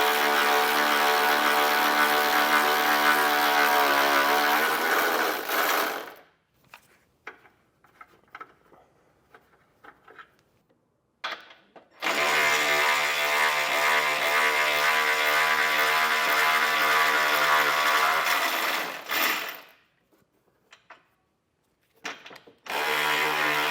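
A power tool is used to remove the bumper nuts while a Roadmaster crossbar-style base plate is installed on a 2021 vehicle. It whirs loudly and close in two sustained runs of about six and seven seconds, with quiet handling noises in between.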